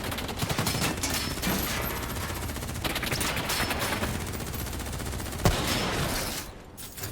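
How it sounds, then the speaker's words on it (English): Sustained automatic gunfire in the Call of Duty Black Ops III video game, a dense, loud barrage of rapid shots rattling without pause for several seconds, with one sharper crack standing out near the end. "Who's shooting?"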